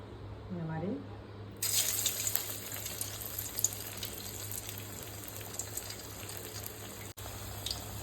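A rice snack drops into hot oil and sizzles in a steady, bright hiss that starts suddenly and keeps going, after a brief voice at the start.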